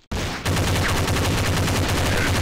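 Loud automatic gunfire in the mobile shooter game Critical Strike CS, a rapid, evenly spaced stream of shots that kicks in almost immediately and runs without pause to the end.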